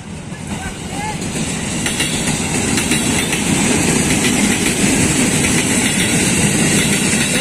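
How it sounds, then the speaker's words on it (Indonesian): Series 6 commuter train pulling out of Depok station, a steady loud mechanical drone and rail rumble that builds slightly as it departs, with faint station ambience. "Seri 6 berangkat dari stasiun Depok."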